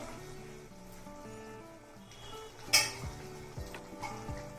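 Metal spoon scraping and clinking in a pot while chicken curry with avakaya mango pickle is stirred over a flame, soft sizzling underneath and a sharper clank near the middle.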